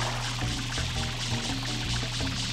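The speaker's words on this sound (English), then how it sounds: "Why is our water doing that?" Water sprays steadily from Mario's water pack in the video game Super Mario Sunshine, making a continuous hissing gush that sits over looping game music.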